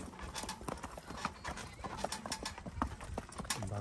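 Hooves of a young filly clip-clop at a walk while she pulls a buggy, a quick, fairly even run of close, sharp knocks with no talking heard.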